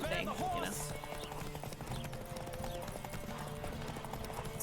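Rhythmic hoofbeats of a galloping horse in The Witcher 3 clip-clop steadily and close by, with a brief whinny near the start and a person talking over them.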